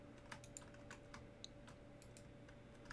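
Clicky typing on a new computer keyboard, a steady run of light key taps close to the mic, alone over a faint low hum.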